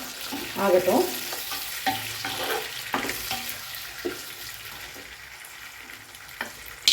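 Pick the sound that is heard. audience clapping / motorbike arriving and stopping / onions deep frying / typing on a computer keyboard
onions deep frying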